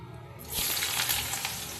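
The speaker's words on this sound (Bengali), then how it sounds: "এবার আমি ওর মধ্যে দিয়ে দেবো কুচনো আলুগুলো দিয়ে ভালো করে ভাজা ভাজা করে নেব" Diced potatoes hit hot oil with cumin seeds and sizzle loudly after a quiet start, a dense steady frying hiss with small spits and crackles.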